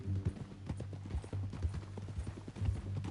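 Horse hooves clip-clop in Red Dead Redemption II, a close, rhythmic gait of repeated thuds under a low, droning game background, with no speech.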